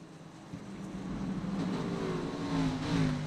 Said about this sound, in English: Listen to the sound of those cars.